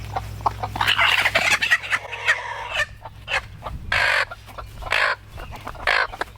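A hen clucks and squawks in agitated bursts while being caught from a flock of chickens, her loud, close calls broken by short pauses over a low steady background hum.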